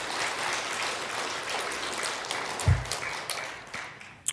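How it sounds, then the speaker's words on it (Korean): A church congregation claps in praise during a worship service, a steady broadband patter of hands spread through the room, moderately loud, with a brief low thump partway through and a sharper accent near the end. "우리 만날 사람 주님께 영광의 박수 올려드리겠습니다."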